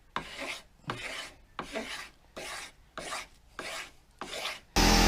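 Repeated rasping strokes of sandpaper on an old, dried-out wooden axe handle, seven steady back-and-forth passes close up with short pauses between, ending in a burst of loud noise.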